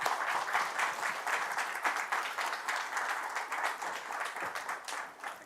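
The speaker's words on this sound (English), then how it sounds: "A round of applause." An audience at an academic summit gives a steady round of applause welcoming panelists to the stage, moderately loud and continuous.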